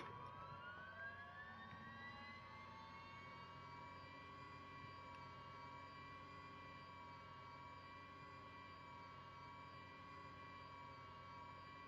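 Engines of a Miltech MV-22 Osprey tiltrotor spool up at startup in Microsoft Flight Simulator 2024, a steady rising whine with layered tones settling into a sustained drone, faint and unbroken for the whole stretch.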